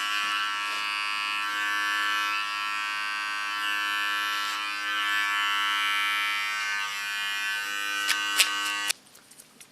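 A Wahl electric hair clipper hums steadily and loudly at close range during a basic men's haircut, with a few brief clicks before the motor cuts off near the end.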